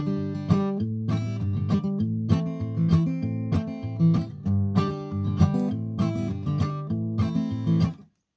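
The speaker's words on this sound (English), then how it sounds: "Then you can get the sort of percussive rhythm by sort of tapping the strings when you do the first downstroke." Acoustic guitar strumming chords for a folk song lesson, steady percussive palm-muted rhythm with sharp string-tap accents on the downstrokes, close and full, ending abruptly, no talking.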